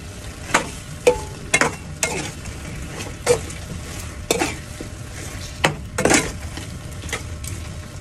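Chicken feet are stirred in a sizzling pan after vinegar goes in, with a steady fry hiss and a series of sharp utensil scrapes and clanks against the pan at irregular intervals, close and distinct.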